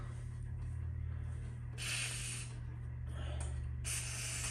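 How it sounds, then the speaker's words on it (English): Lubricant sprays in two steady hissing bursts into the seat track of a John Deere X320 lawn tractor, close and clear above a constant low mechanical hum. "Just getting this sprayed in the track."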